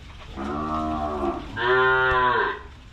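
A pregnant cow at a cattle sale gives two long, loud, close moos, the second higher and stronger, with no talk over them.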